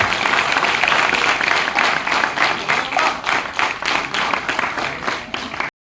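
Audience applause at a youth exchange event in a hall, steady dense clapping from a crowd that holds for about six seconds before stopping abruptly.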